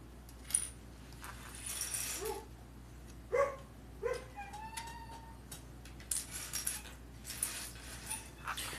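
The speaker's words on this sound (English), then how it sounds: "my dog's gonna continue to whine because they are upsetting him" A dog whines indoors in faint, short high whimpers that come in scattered bursts over a quiet background, with a few soft clicks in between.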